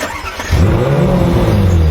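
A Ferrari 458 engine cranks and fires up, settling into a loud, steady rumbling idle with rising revs; a quiet moment comes before it catches.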